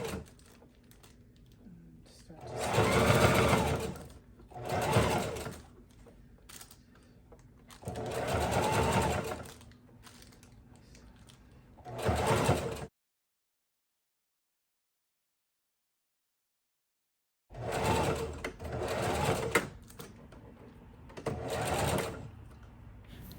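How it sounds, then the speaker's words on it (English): A sewing machine stitching wig tracks, backstitching at the edge: bursts of rapid mechanical needle rattle a few seconds long, stopping and starting, with a silent gap midway. "When I begin sewing, I usually backstitch the very edge of my tracks on both sides."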